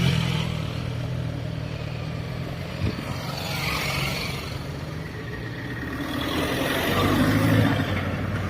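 A motorcycle rides through countryside near Les Planches-près-Arbois in the Jura, its engine and road rush holding steady and close throughout, swelling slightly toward the end, with no voices.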